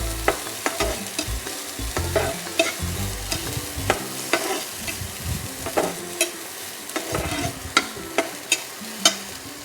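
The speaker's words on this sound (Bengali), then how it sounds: "অরিগ্যানোটা দিয়ে এবার আমি হালকা করে আবারও একটু নাড়িয়ে দেব" Scrambled egg with oregano being stirred in a frying pan, a spatula scraping and tapping in an irregular rhythm over a steady close sizzle, with no voices.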